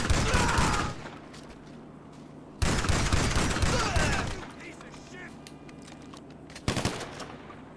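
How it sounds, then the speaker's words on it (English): Automatic gunfire in Grand Theft Auto V Online: two long loud bursts of rapid shots separated by a quiet gap, then a short sharp volley near the end, with a faint background hum between bursts. "Hide behind something until he stops shooting!"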